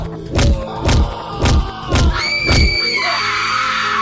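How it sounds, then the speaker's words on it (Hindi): A monster in an animated horror story screams loudly in five rhythmic, heavy bursts, each with a thudding low impact, followed by a lingering high ringing tail. "मॉन्स्टर इस आदमी को मारने के बाद जोर जोर से चिल्लाने लगता है।"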